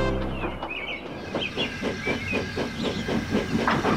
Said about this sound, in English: As the express thundered through, a cloud of something flew from it